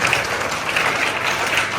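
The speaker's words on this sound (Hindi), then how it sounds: "जोरदार तालियां आरती के लिए" Steady applause from a crowd, a dense continuous patter of many hands clapping at even loudness throughout.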